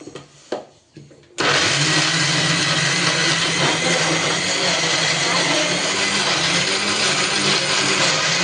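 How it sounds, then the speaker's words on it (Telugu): A few soft knocks, then a mixer grinder roars to life and runs loudly and steadily, its motor whirring as it grinds chutney with water. "ఇప్పుడు ఇది మిక్సీ పట్టుకుందాము"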